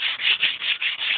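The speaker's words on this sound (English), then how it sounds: "clean the top off with some sandpaper" Sandpaper scrubs rust off the top face of a 1900 Fisher 120-pound anvil in quick, even back-and-forth strokes, about six rasping passes heard up close.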